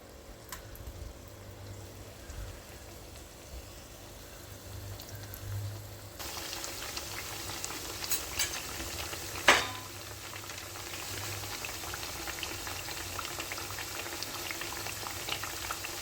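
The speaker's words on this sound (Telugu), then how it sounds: "రెడ్ కలర్ వచ్చే వరకు వేయించుకోవాలి." Palm fruit snacks frying in hot oil: a continuous bubbling sizzle that grows brighter partway through, with one sharp utensil clink near the middle; no talking.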